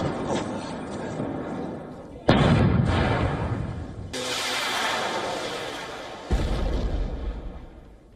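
Heavy military gunfire and artillery in a cross-border exchange between Pakistani forces and Afghan Taliban positions, with sharp booming blasts at several points followed by long rumbling decays, loud and reverberant.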